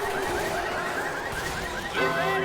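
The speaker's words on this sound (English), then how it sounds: "And now they set the car alarm off." A looping electronic car alarm in a competitive zombie-survival video game match, wailing steadily under dense game noise with a rising warble near the end.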